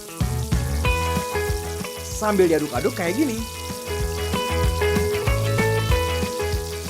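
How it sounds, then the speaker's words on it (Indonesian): Marinated chicken fries in hot oil with a loud, steady sizzle as it is stirred in the pan. A person talks over the crackling. "Ayam yang udah diungkep, kita goreng dulu ke dalam minyak panas."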